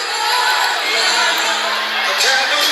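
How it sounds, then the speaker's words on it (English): A boxing crowd watching two local Watertown fighters keeps up a steady wash of cheering and chatter, loud and sustained throughout with no single voice standing out. "Usually warring factions in the crowd over who they're cheering for."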